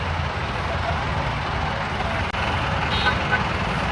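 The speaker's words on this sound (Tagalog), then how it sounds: "Traffic pa din." Road traffic in Parañaque, Philippines, heard while stuck in slow traffic: a steady low rumble of trucks, buses and car engines close by, with a brief dip partway through and no clear voices.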